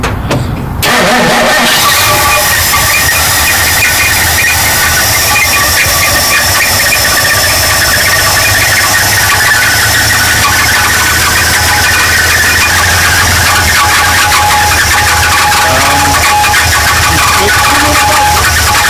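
A 1958 Dodge Coronet left for years in the cold cranks and starts, its engine catching with a loud squeal and settling into a steady, rough mid-pitched running roar that fills the whole stretch up close.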